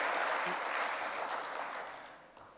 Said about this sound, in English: Let's do a clap hurricane now.